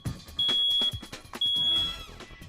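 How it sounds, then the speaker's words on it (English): A smoke alarm being tested gives two loud, piercing high-pitched beeps close up, each lasting about half a second, with a short gap between them. "push the button on your smoke alarm to make sure it's working properly"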